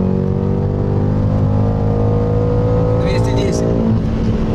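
A tuned BMW M5 F90 and a stage 4 Audi A3 2.0T launch in a drag race, their engines roaring loud and close with rising harmonic pitch through the pull. A brief voice cuts in near the end.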